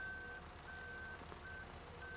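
Reversing alarm on a telehandler in Farming Simulator 17, a steady high-pitched beep repeating in a slow even rhythm of long tones with gaps, over a low engine hum.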